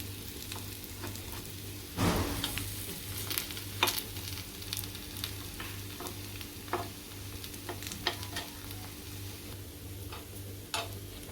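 Mixed lentil appe cook in an appe pan, a faint low sizzle running steadily with scattered soft ticks and pops, close and quiet, no voices.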